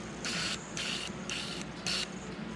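A fuel injector from a Fox Body Mustang fires four short hissing bursts of spray during cleaning, evenly spaced over a steady background hum.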